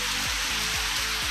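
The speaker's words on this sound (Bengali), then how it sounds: "খুব বৃষ্টি পড়ছে, প্রচণ্ড।" Heavy rain pours down outside on a dark evening, a dense, steady hiss filling the whole stretch, with faint low tones underneath and no voices.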